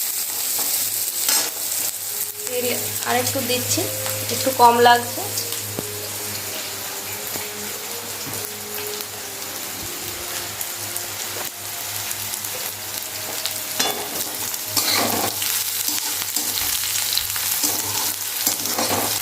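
Onions frying in a pan for a homemade matar paneer curry, steady sizzle with occasional scraping stirs and a brief clatter, while someone speaks briefly in the middle.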